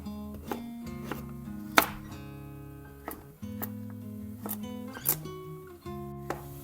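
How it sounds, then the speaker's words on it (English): Tofu being sliced with a knife on a board, several separate chopping taps at an uneven pace, close but fairly quiet, over soft background music. "Now slice your tofu."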